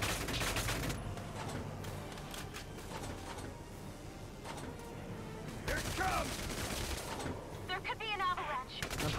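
Rapid gunfire bursts in the video game Valkyria Chronicles 4, dense and crackling at the start and recurring later, with game effects and someone talking over it.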